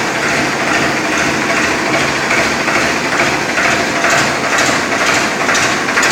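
A Farmtrac Champion 41 HP power-steering tractor engine runs steadily and loudly for the whole stretch, a dense, even mechanical drone with no pauses and no talk over it.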